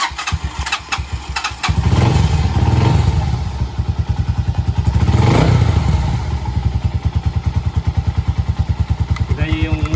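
A Motorstar 125 motorcycle engine starts with a cranking clatter, then runs with a steady, loud chugging idle, revving briefly before settling back into an even rapid thump, close by, with someone talking over it.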